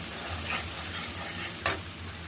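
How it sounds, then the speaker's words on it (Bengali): Hilsa simmering in mustard curry with dried chili powder is stirred in a pan, giving a steady close sizzle with one sharp scrape of the spoon near the end. "এটাকে একটু নেড়ে নিলাম"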